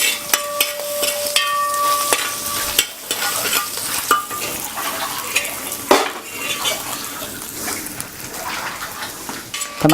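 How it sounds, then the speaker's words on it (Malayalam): Fried coconut pieces are scooped out of hot oil for a beef dry roast, with metal ladle scrapes and clinks against the pan over a continuous bubbling sizzle, close and busy. "നമ്മൾ തേങ്ങാക്കൊത്ത് എണ്ണയിൽ നിന്ന് കോരിയെടുക്കുകയാണ്."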